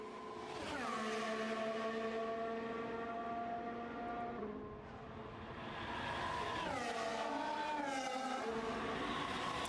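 Formula 1 cars at the Jeddah street circuit during a practice session, engines screaming loud and close with rising and falling pitch as they rev through gears, a brief dip mid-way before another car roars through.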